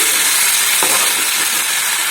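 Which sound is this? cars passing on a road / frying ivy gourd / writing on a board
frying ivy gourd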